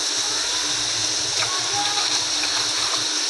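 Water pours into a cooking pot of frying onion and tomato for a raw banana curry, a steady gushing splash held close over low background hum.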